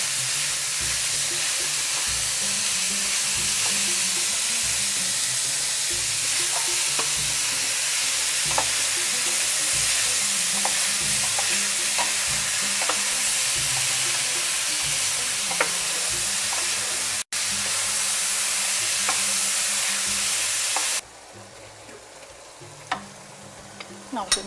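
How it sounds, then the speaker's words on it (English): Coarsely ground beef, a pound of it, frying until brown in a hot pan: steady dense sizzle with occasional crackles and stirring scrapes, loud and close, dropping to a quieter hiss near the end. "1 pound of coarsely ground beef. Cook until brown."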